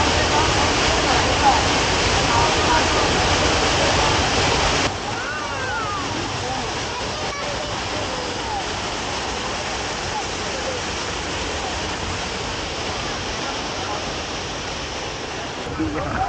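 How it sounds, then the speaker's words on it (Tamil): Small waterfalls pour at Hogenakkal Falls in a dense, continuous roar of rushing water, loud and close, easing slightly after the first few seconds but staying steady throughout. "சின்ன சின்ன ஃபால்ஸாக கொட்டுற இடத்துக்குலாம் ரொம்ப க்ளோஸாக கூப்பிட்டு போனாங்க"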